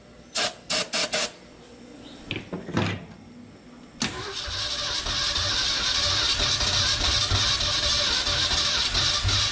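Starter clicks and short cranking bursts from a 1969 Ford F-250 with a 360 engine that sat unused for 20 years, with fuel in the carburetor, then it catches and settles into a loud, steady running roar close by.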